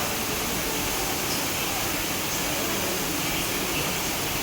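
A dense, unbroken hiss of heavy, wind-driven rain in Udupi fills the air, loud and steady throughout, with no voices or other distinct sounds standing out.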